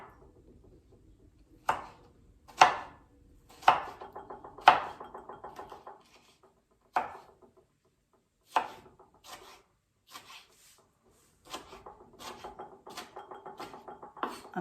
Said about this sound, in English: by the time we cut these tomatoes, the onion will be ready